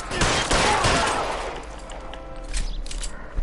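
A burst of rapid gunfire from the L.A. Noire video game rings out loud and close, with dense overlapping shots tapering into a quieter tail and a few sharper cracks near the end.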